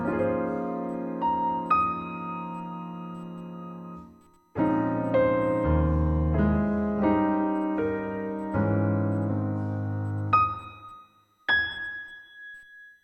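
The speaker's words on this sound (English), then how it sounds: "here's the piano itself, and it's got some processing on it" Solo piano playing chords and melody with a lush, reverberant tail, notes ringing into a washy ambience, with a brief pause partway through.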